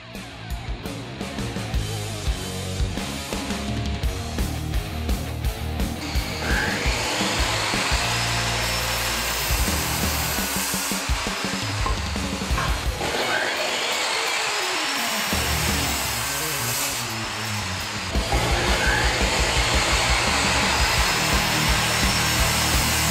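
A Bosch AdvancedVac 20 wet/dry vacuum cleaner runs loud and steady at close range for the whole stretch, its broadband roar shifting in pitch as the hose and nozzle move.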